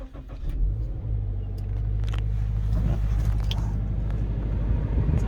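Engine of a 2015 Toyota 86 GTS coupe starting up and settling into a steady, low rumbling idle, heard close from inside the car with a few small clicks early on.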